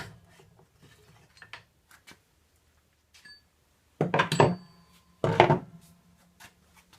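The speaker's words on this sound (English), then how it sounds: "I'm going to take the axle out" On a Triumph Speed Triple R motorcycle, the front wheel axle is removed, bringing scattered small metallic scrapes and taps, then two louder bursts of sliding, grinding metal-on-metal friction close by, with no talking.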